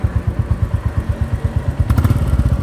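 A Royal Enfield Classic 350 engine idles close by with a steady, rapid thump-thump beat, picking up slightly with a faint rattle near the end.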